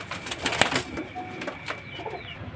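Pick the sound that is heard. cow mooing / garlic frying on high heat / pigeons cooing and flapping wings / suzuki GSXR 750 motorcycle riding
pigeons cooing and flapping wings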